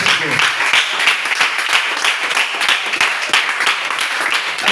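A church congregation at a French-language worship service applauds the Lord, with dense, sustained clapping and cheering voices filling the room throughout.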